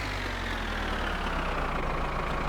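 A tractor engine idles in the video game My Winter Car, a steady, unbroken low rumble with a droning mechanical hum that holds even for the whole stretch, with no talking over it.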